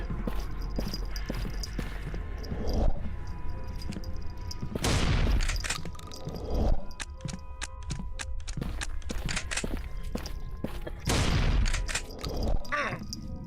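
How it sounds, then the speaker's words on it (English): Shotgun blasts in the Deathbloom video game, a few loud booming shots spaced across the clip over a busy background of game noise and clattering steps. "One more shotgun to the face for Bumbo."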